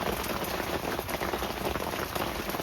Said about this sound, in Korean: 우박이야.